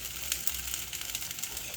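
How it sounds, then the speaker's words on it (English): Steady, fine sizzling and crackling of food frying in hot grease, close up, with a constant hiss and small pops scattered throughout. "Yep, it's hot enough. It's frying."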